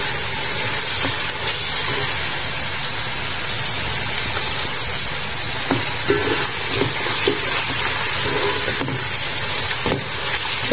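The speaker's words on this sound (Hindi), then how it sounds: "अब तो हमारी प्याज फ्राई हो रही है" Onions frying in a pan give a steady, loud sizzle and hiss that runs unbroken throughout, with a few faint clicks of stirring.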